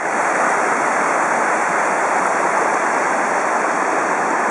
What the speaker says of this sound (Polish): Teraz przyszło mi pokonać strumień.